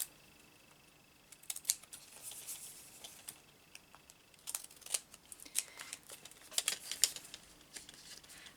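Scissors snipping closely around the edges of a paper junk-journal tag, giving quiet, irregular short crisp cuts in small bursts with no talking.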